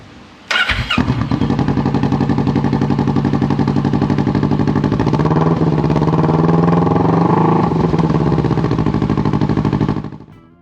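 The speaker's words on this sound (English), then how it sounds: "he upgraded the exhaust to a Delcovic slash cut" A Kawasaki Vulcan 650 motorcycle engine fires up and idles with a loud, rapid, throaty burble from an aftermarket Delkevic slash-cut exhaust, revving slightly before shutting off.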